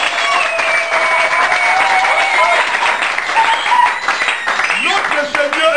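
A church congregation claps and cheers loudly during a French-language service, steady dense applause with shouts and voices rising through it, close and continuous.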